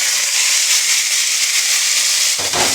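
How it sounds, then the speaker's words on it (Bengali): Sago pearls drop into a hot tempering of cumin seeds and curry leaves, a loud, steady sizzling hiss that flares into a burst of crackling as the sago hits the oil. "তারপরে যখন কারি পাতাটা ফোড়ন হয়ে যাবে তারপরে সাবুটাকে ছেড়ে দিচ্ছি"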